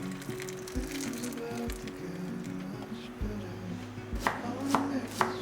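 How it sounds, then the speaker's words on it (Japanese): Myoga ginger being minced with a knife on a cutting board, quiet irregular chopping taps that grow sharper and quicker toward the end. "みょうがをみじん切りにします。"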